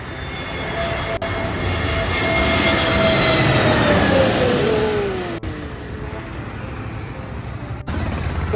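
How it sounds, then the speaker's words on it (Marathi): A passenger airplane on its landing approach into Mumbai airport, passing low and close over the Jarimari viewpoint in Kurla: a loud, sustained jet roar that swells to a peak, then slowly recedes. "इथून एक प्लेन आता येणार आहे बघा"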